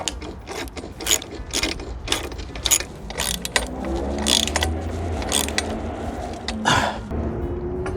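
Crash bar bolts on a Honda NC750X being tightened, close clicking ratchet strokes in quick repeated bursts with metallic clinks in between.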